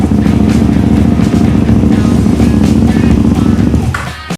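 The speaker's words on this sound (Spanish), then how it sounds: "nos montamos en la moto" A motorcycle engine runs loudly and close up, a dense, rumbling drone with a rapid pulse that carries on for about four seconds before cutting out abruptly.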